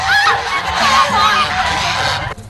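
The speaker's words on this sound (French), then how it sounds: "Devant ce troupeau d'oies blanches, Jingxi ne sait plus quoi penser." A flock of white Zhejiang geese honks loudly and close by, many overlapping nasal calls rising and falling all together, then it ends abruptly.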